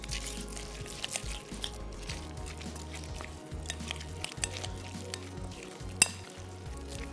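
Crushed cornflakes being stirred into a chicken mixture in a bowl, giving soft, steady scraping and rustling, close and quiet, with one sharp clink near the end.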